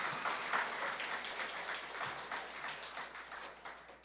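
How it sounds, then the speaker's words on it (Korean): Church congregation at a Sunday service claps in a soft, steady patter, faint and somewhat distant, sustained for several seconds with no talk over it. "박수 한번 쳐주세요"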